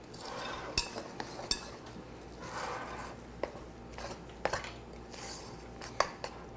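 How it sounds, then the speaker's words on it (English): Milk is stirred into biscuit mix in a bowl with a spoon, making soft scraping and rubbing with scattered clinks of utensil against the bowl, fairly quiet and close. "2/3 of a cup of milk, and we're gonna stir"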